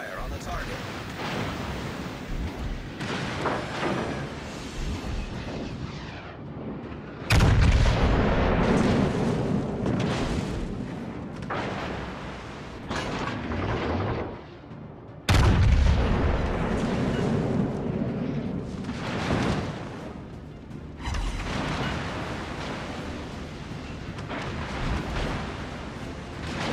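Naval gunfire from the battleship Yamato in the World of Warships Legends video game: two heavy broadside blasts with rumbling, wave-like tails over ocean and wind ambience, and game voice lines are heard between them.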